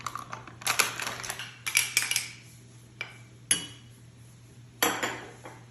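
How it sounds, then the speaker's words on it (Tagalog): A spoon scrapes and clanks against a bowl while shawarma filling ingredients are mixed, in irregular close bursts of clatter with short pauses, over a faint steady hum. "Mix ko na itong ingredients dito sa lulutuin kong panglagay ko sa shawarma."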